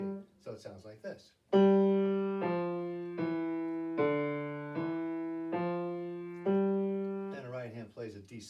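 Slow piano melody of seven sustained notes stepping down and back up (G F E D E F G), each note ringing and decaying, with a voice speaking briefly before and after.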